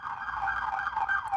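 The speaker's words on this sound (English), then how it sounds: "Loud siren." A loud wailing emergency siren, steady and close, with a wavering rising-and-falling pitch and no voices over it.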